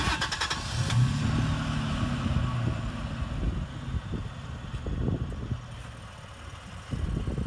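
A 2016 Toyota Tacoma pickup engine idling steadily nearby, a low continuous rumble with occasional mechanical knocks and slight shifts in pitch.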